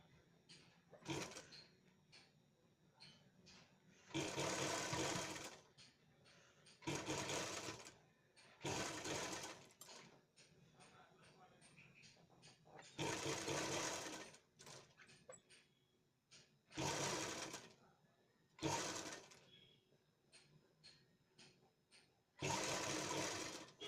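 Sewing machine stitching a lace border onto fabric runs in repeated bursts of fast, whirring mechanical stitching separated by short quiet pauses, close and fairly loud, with no talking.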